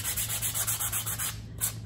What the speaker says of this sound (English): I took just a little scrap piece of 120 sandpaper because I wanted it to be a little distressed.